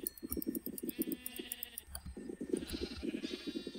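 Sheep in a farming video game bleat repeatedly in quick, rhythmic bursts, with a short pause partway through before the calls resume. The bleats are fairly quiet and close, with soft game sounds behind and no speech.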